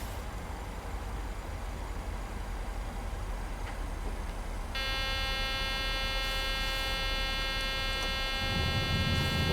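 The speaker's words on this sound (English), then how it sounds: "Let down the gear, which should silence that alarm." Landing gear warning alarm in a PMDG 737-900 flight simulator on approach, a steady tonal electronic alarm that starts partway through over constant cockpit hum and noise, continuing to the end.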